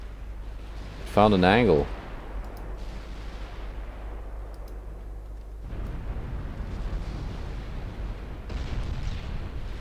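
Battleship gunfire in the naval video game UAD, one loud booming salvo early on followed by low rumbling and distant thuds, with someone talking over the battle.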